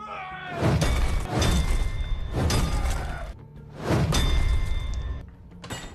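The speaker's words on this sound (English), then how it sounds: "The scene changes to John taking a sledgehammer into the basement and begins smashing the floor open." A sledgehammer smashes open a basement floor in a John Wick film scene: four heavy, loud crunching blows with debris scattering, spaced at roughly even intervals, close and without speech.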